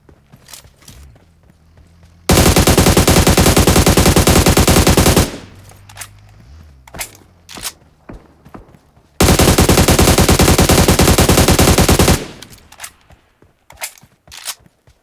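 Video game shootout: two long, loud bursts of rapid automatic gunfire, each lasting about three seconds, with scattered single shots and clicks between them.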